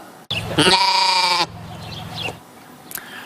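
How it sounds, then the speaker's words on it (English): A wayward lamb loose on the streets of a northwest Calgary neighborhood gives one loud, close, drawn-out bleat, then goes quiet under faint background noise. "The Calgary Humane Society is taking care of a wayward sheep until its owner is found."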